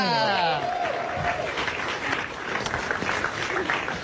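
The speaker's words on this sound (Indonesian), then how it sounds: "Tepuk tangan buat Ernest Prakasa." A crowd applauds steadily, a dense wash of clapping that holds at a loud, even level throughout.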